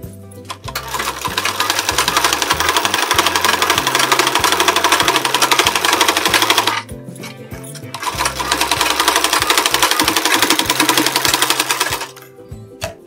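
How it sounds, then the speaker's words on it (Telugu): A sewing machine stitching a blouse runs in two long, loud bursts of rapid mechanical chatter, close by, with a short pause between them and a brief stop near the end. "ఇలా సెట్ చేసుకుంటూ స్టిచ్ చేసుకుంటూ రావాలి."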